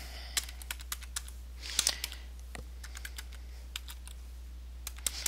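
Keys clack one by one on a computer keyboard as a command is entered in Minecraft, with short sharp taps spread irregularly over a steady low background hum and a small cluster near the middle.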